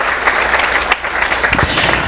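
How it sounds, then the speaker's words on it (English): Audience applause at a national alpaca fleece show awards, honoring the fleece entries: a dense, steady burst of clapping from a room of people, loud and sustained for a couple of seconds. "Can you please give them all a big round of applause?"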